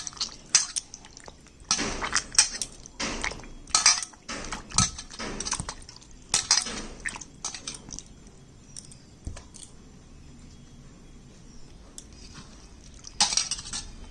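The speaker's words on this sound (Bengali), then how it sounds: "ময়দার মধ্যে জল ঢেলে দিচ্ছি। ময়দাটাকে আমি ধুয়ে পরিষ্কার করে" Flour dough being washed in water in a bowl, with sloshing, dripping and clinks of the bowl in irregular bursts, then a quieter stretch and a final splash.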